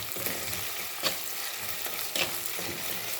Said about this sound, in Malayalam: കുറച്ച് കറിവേപ്പില ഇട്ട് കൊടുക്കാം.